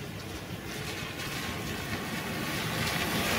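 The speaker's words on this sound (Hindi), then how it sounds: "यहाँ देखिए कंपनी की गाड़ियाँ जा रही है।" Company vehicles drive past through heavy rain, a steady broadband wash of rainfall and wet tyre hiss that swells slightly toward the end, with no voices.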